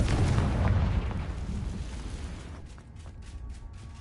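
A Confringo blasting spell exploding in Hogwarts Legacy: a heavy, booming blast up front that rolls and decays over several seconds, followed by faint crackling debris near the end, with no talking.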